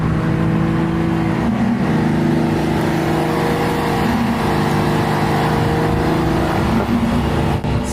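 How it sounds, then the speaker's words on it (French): A Ferrari of around 700 hp, bought at auction, accelerates with a steady, loud engine drone and harmonic whine that holds throughout. No one speaks. "Je veux entendre cette Ferrari accélérer."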